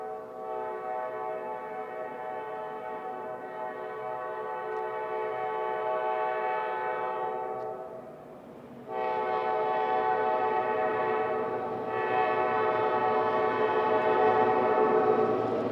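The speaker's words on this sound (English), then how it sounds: "we've caught up with a stack train ahead of it." A loud, sustained train horn blares in two long blasts with a short gap, over the rumble of a passing double-stack freight train.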